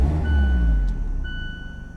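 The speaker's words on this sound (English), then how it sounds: "I love the sound that the engine on this car makes when you start it." A 2017 Mazda MX-5 Miata Grand Touring RF engine starts with a loud, deep rumble that eases down after a second. A thin, steady electronic chime tone sounds alongside, with no one speaking.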